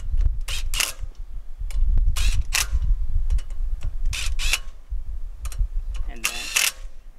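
Rapid ratcheting clicks in several bursts while a wrench tightens lug nuts on a Ford Focus wheel, close and crisp, with steady low background noise between them.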